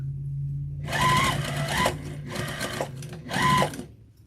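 Sewing machine back stitching across fabric for an infinity scarf, three short close motor bursts of whirring stitches separated by brief pauses, no talking over it.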